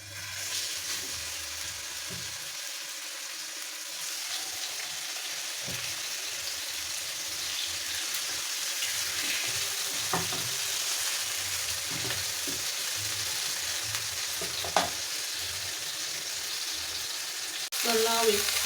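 Oil heating and food frying in a pan, a continuous hiss and sizzle with occasional clicks and stirring knocks, lasting throughout without speech.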